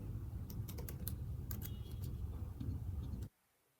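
A short burst of irregular tapping on a computer keyboard, soft and close, that stops abruptly into silence after about three seconds.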